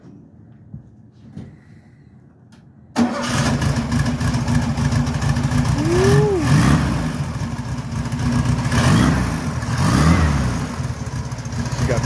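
A repaired car engine turns over after about three seconds of quiet, then idles loudly and revs in swelling bursts near the listener, with a brief whoop of voice.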